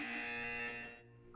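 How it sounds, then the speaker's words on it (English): In the video game Portal 2, a loud, steady electronic buzzer sounds during a wellness exercise. It holds for about a second, then fades into a softer tail. "You will hear a buzzer."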